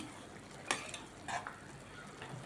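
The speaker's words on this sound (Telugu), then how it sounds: "దీంట్లో 2 టేబుల్ స్పూన్ ధనియాల పౌడర్, ఒకసారి మిక్స్ చేయండి" Coriander powder being stirred into a pot of boiling water while making wheat rava chicken dum biryani, with a few soft scraping strokes and light clinks over a faint background hiss.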